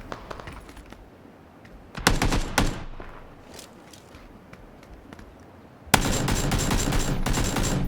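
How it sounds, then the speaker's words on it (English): An AK rifle fires in the PUBG battle-royale game near a hotel area, with a short burst of rapid shots, a brief pause, then a sustained loud stream of automatic fire at close range. "Good old reliable AK there, trying to land some shots onto one of the players that he spotted in the hotel area"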